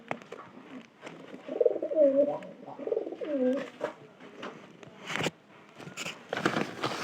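A pigeon near a coop gives a run of soft, deep coos in the first half, followed by scattered rustling and knocking sounds.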